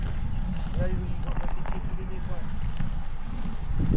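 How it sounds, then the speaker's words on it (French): Wind buffets the microphone during a long road cycling event in Ardèche, giving a constant low rushing roar while people talk over it. "C'est vrai qu'on sent le vent dans le dos là."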